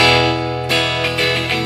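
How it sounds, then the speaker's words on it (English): Electric guitar played through a Tech 21-style multi-effects pedal emulating a Fender tweed amp, a sustained ringing chord followed by a few more strummed notes, close and moderately loud, with no talking. "it's a Fender tweed amp sounding."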